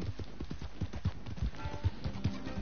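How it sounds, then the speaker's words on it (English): Horse galloping across open country in Red Dead Redemption 2, steady rhythmic hoofbeats landing in quick repeated clusters, close and clear with faint game ambience underneath and no talk. "Giddy up, horsey, giddy up, giddy up"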